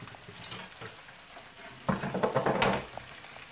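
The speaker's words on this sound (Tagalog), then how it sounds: "halo natin yung onion para mag-tender siya" Onion being stirred in a pan for beef stew: a quiet sizzle, then a louder burst of scraping and frying about halfway through, with no voices.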